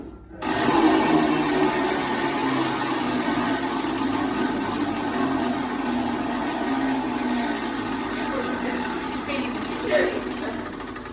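A raffle wheel spins at a church raffle draw, producing a continuous dense whirring rattle from the clicking pointer that runs steadily for about ten seconds, fairly loud and close, with faint voices in the background.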